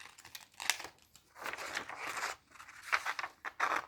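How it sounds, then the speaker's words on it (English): Paper being cut with scissors around solid outlines for a folded mammal craft project, with bursts of crisp snipping and crinkling in several separate passes, close and fairly quiet. "So I'm going to cut around the solid lines."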